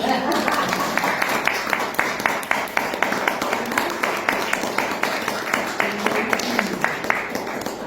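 Listeners at a poetry reading in a library clap for the poet, a lively round of many hands with sharp, fairly regular claps heard throughout.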